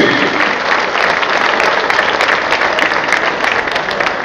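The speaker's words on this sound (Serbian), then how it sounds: "Ajmo jedan veliki aplauz za naša sekretara Sašu Dijovića." Loud, sustained applause from a gathered crowd honoring a football club secretary, dense clapping filling the whole stretch at an even level, close and full.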